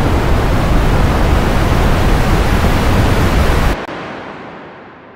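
Synthesized ocean surf built from filtered noise with a stereo widener, a loud, steady broadband wash that rolls on for several seconds, then cuts off abruptly, leaving a quieter tail fading out.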